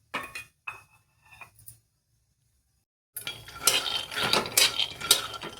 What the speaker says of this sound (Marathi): आता मी पहिल्यांदा शेंगदाणे भाजून घेते.